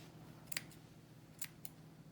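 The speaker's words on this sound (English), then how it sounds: "I'm just gonna wanna snip around as close to where the glue is" Scissors snipping away excess material from a DIY gnome kit: a few quiet, close crisp snips spaced apart over a faint background hiss, no voices.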